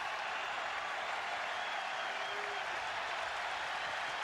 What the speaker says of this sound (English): Now listen to the crowd now. They want another punch-out.